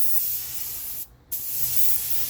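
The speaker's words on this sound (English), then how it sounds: "this is my first coat of base here. I put a light coat, just kind of a dusting." A spray gun applies a light dusting of white base coat to a Kia Optima bumper outdoors, giving a steady, close hiss that breaks off briefly in the middle before resuming.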